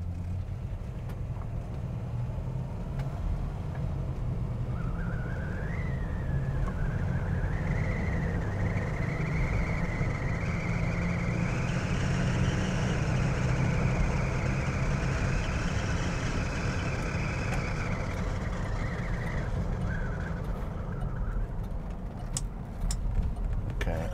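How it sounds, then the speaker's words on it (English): A 1967 Cadillac DeVille engine idles, then revs up with a steadily rising drone, holds high for several seconds, and settles back down to idle. "I'm gonna give it some gas, watch this."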